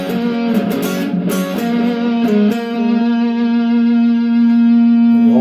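An electric guitar plays a repeating chorus riff with effects and some reverb, loud and alone, notes held and repeated in a steady pattern.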